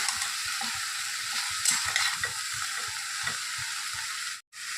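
Rice added to a pan of frying masala with turmeric, a steady hiss of sizzling with rhythmic scraping stirs underneath, close up, ending in a brief pause before the sizzle resumes.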